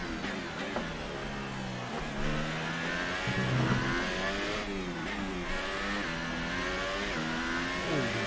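A Formula 1 race car engine roars in a racing video game during a multiplayer race in Australia. It is loud and continuous, revving up and down through repeated gear shifts, with no talk.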